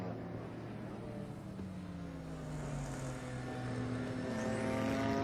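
Race car engines at the Assen circuit during a Supercar Challenge race, including BMWs, heard as a steady distant drone whose whining pitch sweeps and shifts as cars pass, slowly growing louder.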